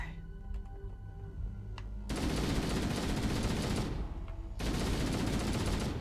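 Sustained automatic gunfire in Halo: The Master Chief Collection, a dense continuous stream of shots that breaks off briefly and then resumes at full loudness.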